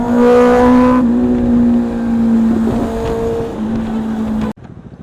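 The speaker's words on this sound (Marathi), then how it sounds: "super bike" A motorbike engine drones loudly and steadily, its pitch easing down, then it cuts off abruptly near the end.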